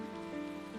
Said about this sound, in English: Water drops drummed against the umbrella